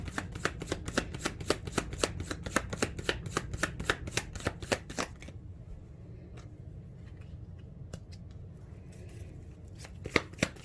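Tarot cards are riffled and shuffled in a rapid run of crisp clicks, then slower scattered taps and slides as the deck settles.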